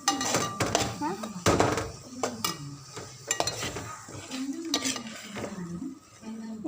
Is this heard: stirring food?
yes